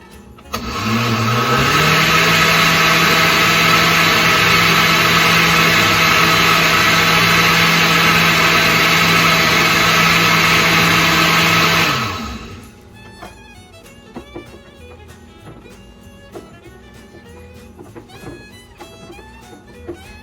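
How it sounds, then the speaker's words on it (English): An electric blender whirs up and runs steadily for about ten seconds while mixing coquito ingredients, a loud sustained motor whine that then winds down and stops, leaving quiet kitchen clatter. "Blend, blend, blend."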